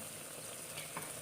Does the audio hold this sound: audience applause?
no